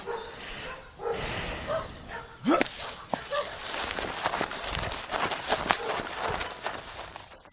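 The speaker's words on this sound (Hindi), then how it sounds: "जैसे ही कुत्तों ने दोबारा भौंकना शुरू किया" Dogs bark repeatedly amid rustling, running footsteps and movement, fairly close and busy, with a brief quieter stretch before the activity picks up.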